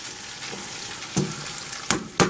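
Canned, pre-cooked green beans being stirred in a frying pan, a steady low sizzle with several scraping, clattering stirs of the utensil against the pan.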